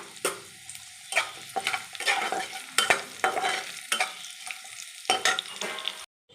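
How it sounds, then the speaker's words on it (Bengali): Black cumin and black mustard seeds tempering in hot oil, with bursts of crackling sizzle and stirring scrapes that rise and fade in irregular waves across the clip, ending abruptly. "সামান্য আমি কালো জিরে আর কালো সরষে ফোড়ন দিলাম।"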